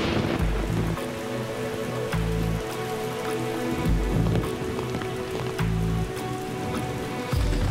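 Steady rain falls outdoors at a crime scene, a dense, even patter filling the whole stretch, with heavy low rumbling surges pulsing beneath it at irregular intervals.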